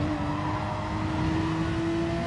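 A Group 3 Porsche 911 RSR race car in a racing simulator at Brands Hatch GP, its engine holding a steady, loud droning tone throughout with no break or talk.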